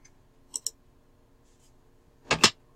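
Short clicks on a computer keyboard while entering an AutoCAD command, a quiet pair of taps early and a louder cluster of keystrokes near the end, with no talking.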